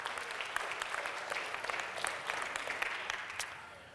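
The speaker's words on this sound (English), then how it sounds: "you can clap or you can wave" Audience clapping to welcome new members at a church gathering, a steady dense wash of many hands that fades slightly toward the end, with no talk over it.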